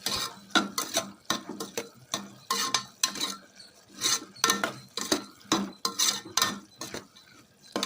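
Vegetable curd rice being stirred and fried in a pan, with a steady run of spoon scrapes and metal clatter against the pan over a faint sizzle, close and fairly loud, with no talking.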